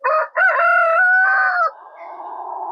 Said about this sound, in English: the rooster apparently has a new call